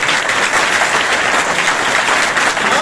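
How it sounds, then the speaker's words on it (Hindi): Sustained applause from a seminar audience in a hall, dense steady clapping that fills the room from start to finish with no speech over it. "तो यहाँ एक बार आरसीएम वालों के लिए जरूरत ताली बजाइए।"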